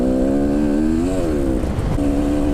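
Four-stroke enduro motorcycle accelerating hard on a trail, its loud, close engine note rising and dipping with throttle changes over a steady rumble.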